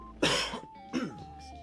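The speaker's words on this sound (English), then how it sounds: "got a summer cough" Two sharp coughs close to the mic, the second a little softer, with a faint steady tone in the background.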